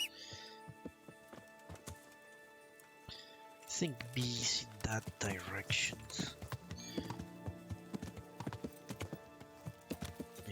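Rhythmic hoof clip-clops of a trotting horse in a video game over game music, fairly faint, while someone speaks briefly over it.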